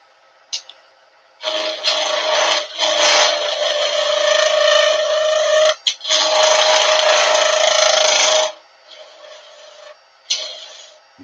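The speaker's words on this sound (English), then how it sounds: "I'm just using the very tip of the gouge to work." A wooden flower on the lathe is cut with the very tip of a gouge, sounding as close, loud, steady scraping passes with a sustained tonal whine, separated by brief pauses and a few light knocks.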